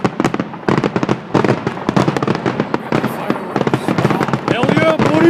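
A fireworks show grand finale in Mentor, Ohio, with rapid-fire bursts and crackling explosions piling up densely and continuously, heard from nearby, while spectators talk and cheer over the noise.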